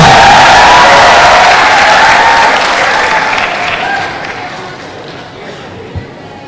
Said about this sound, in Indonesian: Aplaus buat Pak Haji Rhoma Irama.